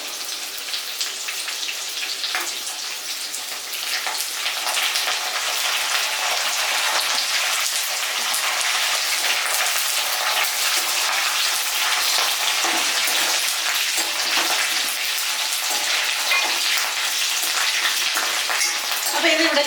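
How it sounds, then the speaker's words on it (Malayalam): Curry leaves dropped into hot oil for a radish and carrot pickle crackle and sizzle loudly, a dense, continuous spitting hiss that lasts throughout. "ഇനി നമുക്ക് കറിവേപ്പില ഇട്ട് കൊടുക്കാം."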